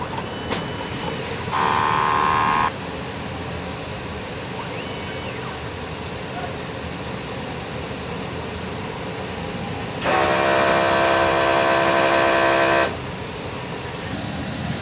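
A 60 cm DTF printer runs a head clean cycle: two bursts of loud mechanical pumping and whirring, one short near the start and one longer a few seconds later, over a steady background hum.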